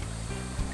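Water flows steadily at a temple in Jeolla province where feet are dipped in the stream, a constant close rush with a brief swell near the end.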